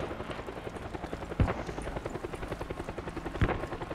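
A helicopter flies nearby in the Squad video game, its rotor beating in a fast, steady rhythmic thump with a couple of sharper impacts, no talk over it.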